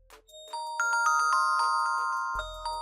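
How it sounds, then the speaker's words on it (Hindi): A preset ringtone plays from a Xiaomi Redmi Note phone running MIUI 10: a clear, electronic chiming melody of repeated bell-like notes, loud and close, with no voices. "तो जैसे आप क्लिक करेंगे तो वो रिंगटोन बजेगी और वो सेट हो जाएगी"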